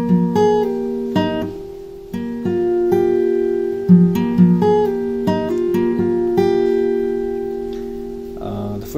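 Acoustic guitar plays the second bar of the verse of a song, a series of plucked single notes and a held chord ringing out, played alone at close range.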